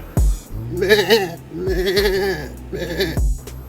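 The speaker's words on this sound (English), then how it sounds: "I'll put some noises in, make him sound like a sheep." Sheep-like bleats sound in three drawn-out, quavering calls, close and loud, with short thumps between them.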